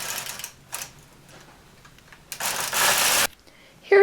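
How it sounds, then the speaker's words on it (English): A knitting machine carriage runs across the bed knitting waste yarn, giving short bursts of rattling, clacking mechanical noise separated by pauses, with the longest, loudest pass near the middle of the passage. "Now I've just changed the carriage so that it will knit all the stitches, and I'm hand feeding 8 rows of waste yarn."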